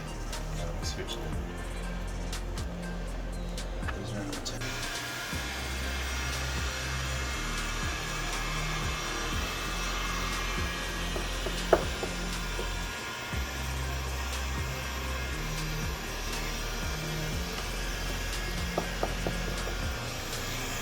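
Heat gun warming tint film on a Volkswagen Jetta tail light, a steady close blowing whir with a low pulsing hum and light handling knocks, no pause.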